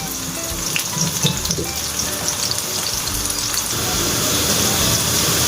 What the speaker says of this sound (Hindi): एक अदद प्याज ही है बड़े वाला। हम ब्राउन करेंगे हल्का सा।